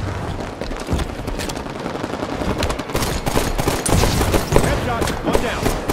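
Busy video game firefight with rapid gunfire bursts, scattered single shots and booming impacts layered over constant battle noise, with a voice speaking over the action.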